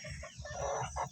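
Free-range village chickens give a few short, soft clucks in quick succession, close by and fairly quiet, with no voices.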